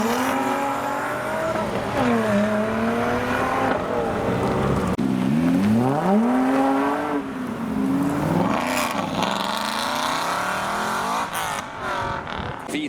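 An Audi R8 V10 supercar roars past on a road after a car show, its engine pitch swooping up and down through gear changes, loud and close, amid other passing supercar noise.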